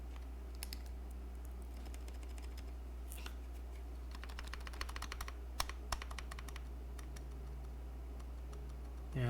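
Clicks and faint ticks from a custom ai03 Polaris mechanical keyboard being typed on, a quiet irregular patter of keystrokes over a steady low hum, with a few sharper taps standing out.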